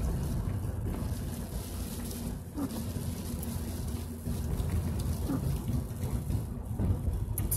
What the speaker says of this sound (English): See how it's starting to rain?